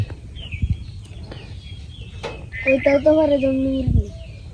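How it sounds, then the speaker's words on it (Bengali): A hill jungle fowl gives a few short clucks and a drawn-out call in a rural hillside setting, fairly close, with people talking nearby. "এটা মুরগি জঙ্গলি মুরগি নাকি"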